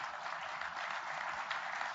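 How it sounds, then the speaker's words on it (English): An audience at an anniversary commemoration of Dwight D. Eisenhower's farewell gives steady, dense applause, sustained and fairly distant, with no talk over it. "the applause, Susan, I think is not because I'm not brain dead, but for you"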